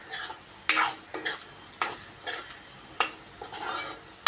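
Two eggs fry in a pan while being stirred, with soft sizzling under a series of sharp scraping and clinking strokes from a utensil against the pan at irregular intervals.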